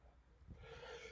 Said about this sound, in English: I've been sneezing all around you.